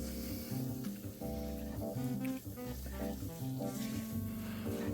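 Flour being stirred into a sizzling bangers-and-mash pie filling in a pan, a soft, continuous frying hiss with stirring scrapes beneath a steady musical background.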